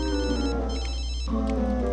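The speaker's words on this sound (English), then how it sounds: "Ooh, my phone's ringing." A cell phone ringtone from the video game The Sims 3 plays steadily and fairly loud for about two seconds, a bright melodic electronic ring that shifts pitch partway through, with no talking over it.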